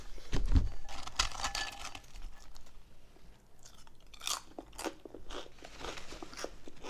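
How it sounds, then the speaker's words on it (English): Crunchy bites and chewing of a burrito and sides during close-miked ASMR eating, a run of crisp crunches and mouth sounds up close, no talking. "You still hear the crunch."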